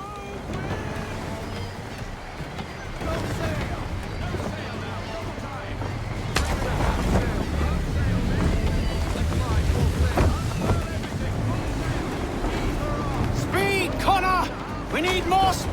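A sailing ship at sea in Assassin's Creed: wind gusts and rushing water wash over the creaking hull, with continuous speech over the top.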